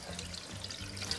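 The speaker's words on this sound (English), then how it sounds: "Then we fill it with water." Water pours into an air fryer basket whose bottom is coated with dish soap, making a steady, soft splashing trickle that runs continuously for about a second, fairly quiet and close, with no voices.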